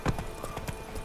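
Horse hooves galloping in The Witcher 3, a quick series of close clip-clop strikes in an uneven rhythm over about a second.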